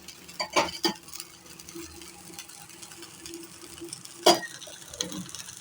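Oil poured onto a rava dosa on a hot pan sizzles softly and steadily, broken by a few sharp clicks and scrapes near the start and again around the fourth second, with no talking.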